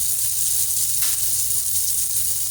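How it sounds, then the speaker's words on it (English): Julienned ginger sizzling in a thick sauce in a pan, a steady close hiss of frying with broad, even noise and no pauses, with no voices. "And now I'm going to add some sliced julienne gingers"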